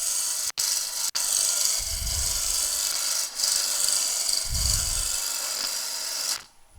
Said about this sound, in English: I'm going to use a roughing gouge. Just to make a couple of cuts to take a bit of diameter away